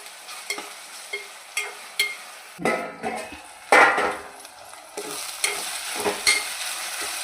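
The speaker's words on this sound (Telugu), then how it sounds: "ఇది కూడా వేసి పచ్చివాసన పోయేదాకా చక్కగా వేయించుకుందాం." Ginger garlic paste frying with whole spices such as cinnamon and cloves in a pan, giving a soft sizzle broken by repeated stirring scrapes and clinks of a spoon against the pan, with no voices.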